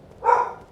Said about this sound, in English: Heralded by my dog barking in the background